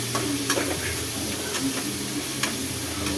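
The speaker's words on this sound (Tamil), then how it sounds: "வெங்காயம் நல்லா வதங்கட்டும்." Chopped onions and green chillies sautéing in a pan for paneer biryani, with a steady soft sizzle and occasional scrapes and clinks of a stirring spoon, close up and alone.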